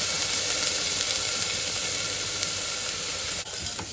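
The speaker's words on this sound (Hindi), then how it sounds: "बाकी गोभी डाल देती हूँ ताकि पूरी गोभी फ्राई हो जाए।" Cauliflower frying in a dry pan with green chili, a steady, close, broadband sizzle and hiss that runs unbroken from start to finish, with no voices.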